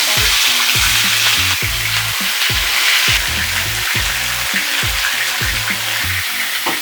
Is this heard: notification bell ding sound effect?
no